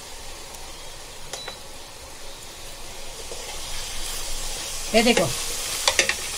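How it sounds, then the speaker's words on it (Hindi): Ginger garlic paste frying with onions in a pan for a spicy fish curry, a low sizzling hiss that swells near the end with scraping stirs, and a brief spoken remark. "अभी हम ये अदरक लहसुन का पेस्ट डालें तो अच्छे से भुनेंगे।"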